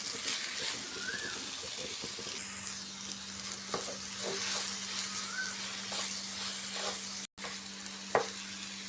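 Grated coconut and banana being stirred in a frying pan, with soft, faint sizzling and intermittent scraping strokes of a spoon against the pan.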